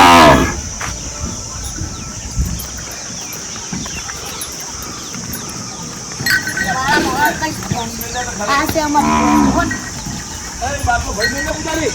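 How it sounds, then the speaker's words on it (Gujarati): A water buffalo lows a few times amid a busy farmyard, with people talking nearby and scattered rustling in the background. "આ છે અમારી ભેંસો."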